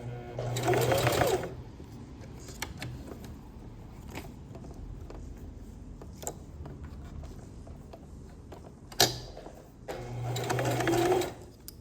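A sewing machine runs in two short bursts of rapid stitching through fabric on a multipurpose kids' pencil case, separated by a quiet pause with small handling clicks.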